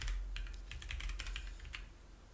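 Rapid, uneven keystrokes clatter on a computer keyboard during a programming session, close and steady, with a low background hum and no talking.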